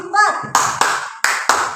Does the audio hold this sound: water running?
no